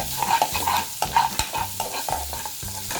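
Sliced green chillies and cumin seeds, with black peppercorns and cardamom, sizzle in hot oil for dal makhani, with a steady crackle broken by regular scraping stir strokes of a spoon against the pan, close and clear.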